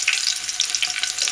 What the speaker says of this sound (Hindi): इसको ऐसे ब्राउनिश होने तक अच्छे से फ्राई करना पड़ेगा।